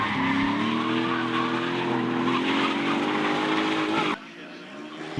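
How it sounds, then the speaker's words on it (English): Miata drift race cars at an April 2016 top 16 event, engines droning steadily with tire squeal at a moderate distance, under commentary, then cutting off abruptly near the end. "Sheldon Rozon closing right up on Jason's rear quarter panel as they head off into the infield."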